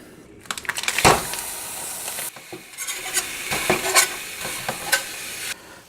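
Ground beef sizzles and fries in a pan on a stove burner, with spoon stirring and scraping against the pan at close range, loud crackle fading in and out as it's moved.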